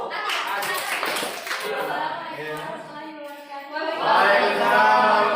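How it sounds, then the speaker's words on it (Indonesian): Classroom audience applause at a biology lesson in a school, a burst of hand clapping that fades, mixed with a speaking voice, then swells again toward the end. "Kasih aplaus."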